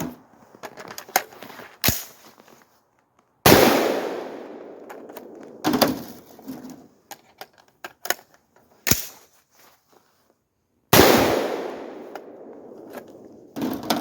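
An AR-15 rifle's bolt slams forward repeatedly as an ambidextrous paddle release is pressed by a gloved hand, giving sharp metallic clacks at intervals, with softer handling clicks and rattles in between.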